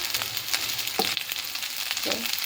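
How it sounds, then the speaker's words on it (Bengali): Dried fish (shutki) frying in a pan, a steady bright sizzle with occasional stirring scrapes and clinks, close and alone without any talk. "এই যে শুটকিটা মাঝখানে ভালো করে ভেজে নেবেন, কাঁচা কাঁচা করবেন না।"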